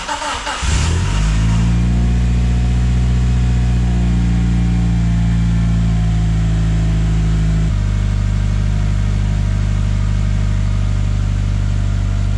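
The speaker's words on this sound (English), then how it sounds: "Now this is legit first startup, so we'll see what I've stuffed up or missed." A Mitsubishi Lancer Evo 6 engine starts for the first time after work on it: a brief crank catches within a second, then the engine settles into a loud, close, steady idle with a deep droning hum and a slight step in pitch partway through.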